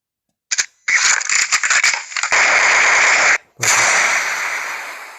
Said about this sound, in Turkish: Silah sesleri de var.